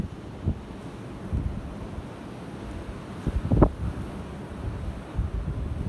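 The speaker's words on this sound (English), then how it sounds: "The wind is bitterly cold." Bitterly cold wind buffets a rocky coastline near icy cliffs, a steady low rumble of gusts against the microphone with a few brief louder bursts, no voices present.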